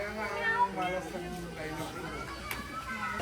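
A human voice imitates a cat's meowing in short, pitched cries amid crowd chatter at a Tamiya Mini 4WD open-class race event, with other voices talking loudly throughout.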